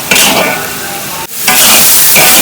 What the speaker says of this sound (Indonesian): Aku akan tumis sampai berbau harum dan bumbunya ini layu ya